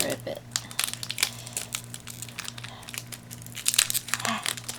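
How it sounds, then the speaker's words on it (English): A Yu-Gi-Oh card booster pack being torn open, close crinkling foil and tearing rustles in quick irregular bursts while someone talks. "Oh no, I'm gonna rip it"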